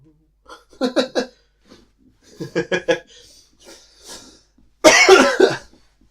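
Three bursts of coughing, each a quick cluster of harsh coughs, separated by short pauses; the last burst is loudest and closest.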